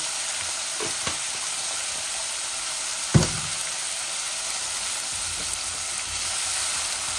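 Chopped onion with a spoonful of salt frying in hot oil in a pan, a steady dense sizzle throughout with an occasional clink of a utensil, close and continuous.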